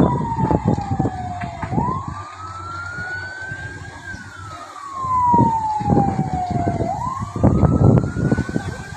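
A fire truck siren wails as it arrives at a fire in Barangay Catmon, Malabon City, rising and falling loudly over engine rumble and crowd noise at a nearby street scene.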